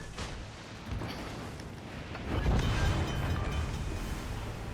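Destroyer Anshan firing its guns in the naval video game World of Warships Legends, a booming salvo swelling halfway through over a rumbling in-game background, with no talk.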